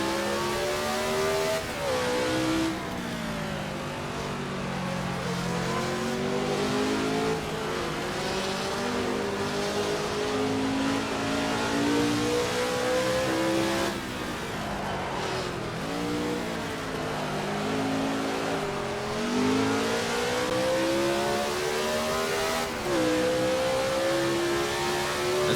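A 1967-era Grand Prix race car's engine in a driving game, revving continuously and loud, with pitch rising through the gears and dipping for corners, alone without talk.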